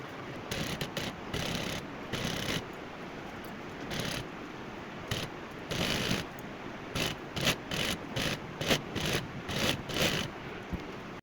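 A sewing machine stitches lace onto a fabric strip in short, quiet, irregular bursts of fast mechanical clatter separated by brief pauses.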